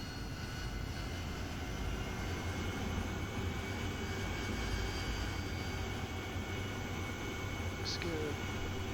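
Jet engine noise from an aircraft in a carrier recovery and qualification setting, a steady broadband roar that holds level throughout rather than clearly rising, with faint tonal whine.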